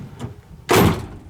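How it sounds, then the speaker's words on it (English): A 1967 Ford Mustang door shutting, a single solid close thunk after a faint click. "Both doors shut good."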